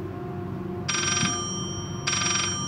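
A telephone rings in the horror video game Layers of Fear, two short bright bursts of ringing about a second apart over a low, steady ambient drone.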